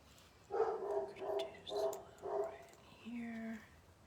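A dog barks in a run of five loud, evenly spaced barks, then lets out a longer whining yelp, close and clear with no other sound behind it.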